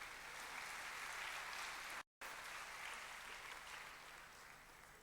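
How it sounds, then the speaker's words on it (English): A convocation audience applauds in a broad, even wash of clapping, with a brief dropout partway through before the clapping carries on at a steady level. "Everybody, put your hands together for a round of applause."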